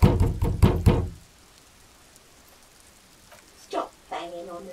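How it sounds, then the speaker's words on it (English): A door is knocked on again in the video game Disco Elysium, with a quick run of about five loud, hollow wooden raps, then quiet, and brief voice-like sounds near the end. "Knock again."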